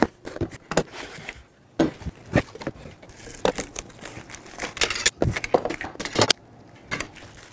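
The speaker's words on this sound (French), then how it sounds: "On va déballer la quincaillerie." Hardware for assembling a vertical support for a Can-Am Freedom trailer is unpacked, with small screws, nuts and lock washers jangling and clinking alongside packaging crinkles in irregular bursts, close by and without speech.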